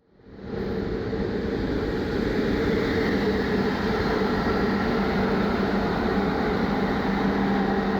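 A steady, loud rumbling drone of a train in motion from Brașov to Sighișoara, Romania, a constant roar with no pauses throughout.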